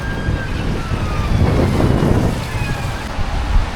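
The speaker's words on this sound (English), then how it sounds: "Right, okay, so the rain's back." Heavy rain pours down outdoors on a Blackpool street, a loud, dense, steady hiss and patter close by with a faint siren wail in the distance.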